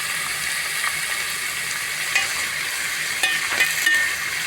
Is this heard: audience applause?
no